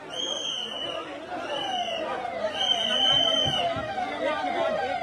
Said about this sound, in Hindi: एक के बाद एक लगातार एम्बुलेंस आ रहा है